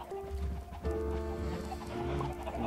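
Minecraft chickens cluck in short repeated calls through a steady game soundscape, moderately loud and close, with no talking over them.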